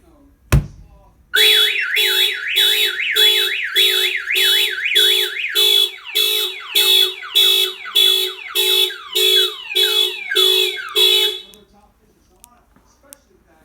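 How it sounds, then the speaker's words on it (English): After a single thump, a 2017 Honda Accord's Python alarm blares: a rapid warbling siren, then a repeating series of pulsed electronic tones, before cutting off abruptly. "If the vehicle is hit or any of the doors are pried open, it will fire off the alarm system"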